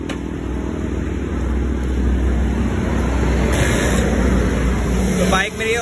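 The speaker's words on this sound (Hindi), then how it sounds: "बाइक मेरी हो गई है स्टार्ट।" A Honda CD 70 motorcycle, a 2023 model, runs with a continuous, close, rumbling engine drone. Wind-like noise is mixed in and holds steady throughout.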